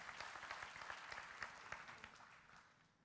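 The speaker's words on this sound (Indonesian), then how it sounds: "Tepuk tangan bagi Tuhan." A church congregation applauds, a dense burst of many hands clapping together at moderate distance that gradually thins and fades out over about three seconds.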